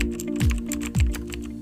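Rapid clicking of keys on a computer keyboard as a password is entered, a quick close-up patter of keystrokes over a low steady hum.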